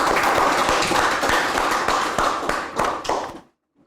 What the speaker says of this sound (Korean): 두 분들한테 큰 박수 한번 해주세요